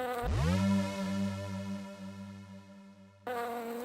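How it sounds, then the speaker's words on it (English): A bumblebee buzzing sound effect, a loud close drone that swoops in, holds steady for about three seconds, then cuts off and resumes abruptly. "she heard a faint buzzing sound"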